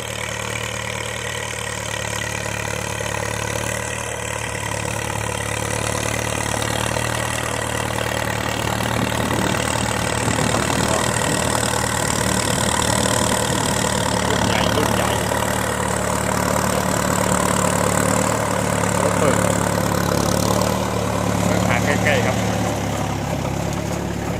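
New farm vehicle engine runs continuously in a sugarcane field, a loud steady diesel drone with a low rumbling hum, while someone talks over it.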